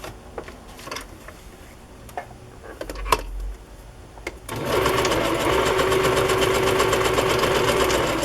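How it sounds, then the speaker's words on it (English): A sewing machine stitches through two layers of Christmas fabric: faint close taps and clicks at first, then a loud, steady, fast mechanical whir that runs to the end without talk. "I just have 2 layers of Christmas fabric I'm going to sew on the top there"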